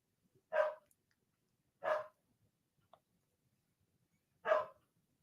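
A dog barks three times, each a single short, sharp bark, separated by quiet pauses, fairly close but not loud.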